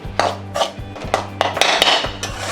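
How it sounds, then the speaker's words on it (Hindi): Semolina is dry-roasted in a pan for karanji filling, with a spatula repeatedly scraping and clinking against the metal in a quick, uneven rhythm, close up and with no talking. "सूजी को मैं भून लेती हूँ।"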